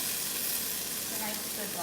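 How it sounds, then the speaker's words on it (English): Steady, loud sizzling of steak frying in a hot pan, a continuous crackling hiss without pause. "That's a nice sizzle."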